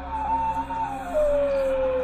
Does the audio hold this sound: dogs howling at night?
yes